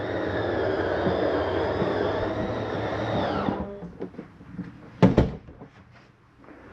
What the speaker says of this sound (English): So retract that bedroom slide.